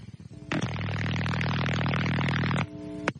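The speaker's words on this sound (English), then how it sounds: "That's my phone ringing." A phone ringing comes through the line as a harsh, loud, sustained electronic buzz lasting about two seconds, with a short blip after it and faint background noise around it.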